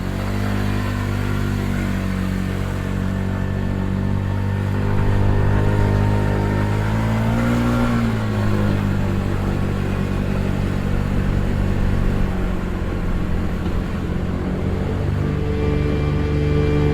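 A scooter engine runs close and steady, rising in pitch around the middle as it pulls away, with a continuous mid-range drone and no voices.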